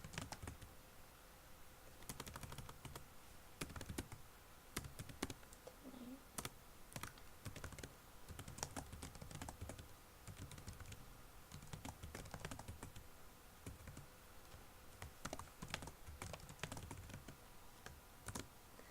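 Computer keyboard typed on at a steady pace to log a records search, quiet close key clicks in irregular clusters continuing throughout with no talking.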